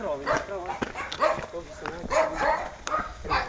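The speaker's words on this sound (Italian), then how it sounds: "Dannati cani." Several dogs bark and yip in short bursts, mixed with speech and other outdoor noise, fairly close.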